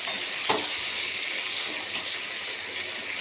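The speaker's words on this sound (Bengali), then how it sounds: "এটা দেখুন তেলের মধ্যে দিয়ে দিয়েছি। এবার নাড়াচাড়া করব।" Pickle ingredients fry in hot oil and are stirred, producing a steady bright sizzle with an occasional scrape or knock of the spoon against the pan. The sound is close and continuous, with no speech.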